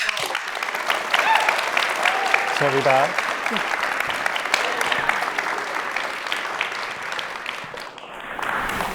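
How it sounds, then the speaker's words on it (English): A lecture audience gives sustained, full clapping for two guests, steady throughout with a voice briefly speaking over it partway through. "Please give them a round of applause"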